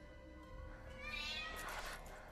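A cat meows faintly in the background under a soft musical bed, with a rising, stretched cry that swells midway and fades out.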